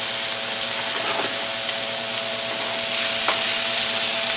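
Onions, peppers, bacon and spinach fry in a pot with a steady, bright, loud hiss that holds evenly throughout, broken by a few faint clicks and scrapes.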